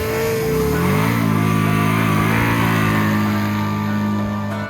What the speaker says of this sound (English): I was just happy that it was finally time for me to go up and start my burnout.